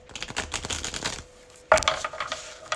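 Tarot cards being shuffled make a rapid fluttering riffle of papery slaps, a steady run followed by a sharper, louder burst near the end, close and unaccompanied by talk.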